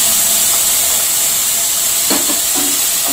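Green chillies and tomatoes hitting a hot pan produce a loud, continuous hissing sizzle, close up and steady, with a few faint clinks near the end and no talking.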